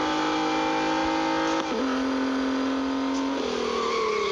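A Nissan Z drifting in the racing game Real Racing 3, its engine holding a loud, steady whine that drops and shifts pitch twice as it slides, alone without talk.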